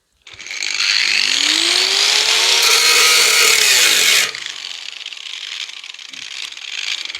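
Angle grinder cutting through metal on a 1972 MG Midget, a loud, steady high whine with a falling pitch sweep for about four seconds, then dropping to a quieter whirring spin-down.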